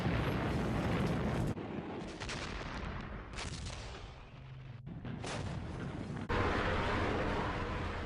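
Russian rocket launchers firing in World War II footage: loud, rushing bursts of launch noise come in several blocks separated by abrupt cuts, with a heavy low rumble underneath.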